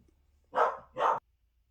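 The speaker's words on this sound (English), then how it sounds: "Sorry, the dog." A dog barks twice in quick succession from a nearby room, two loud, full barks standing alone against a quiet indoor background.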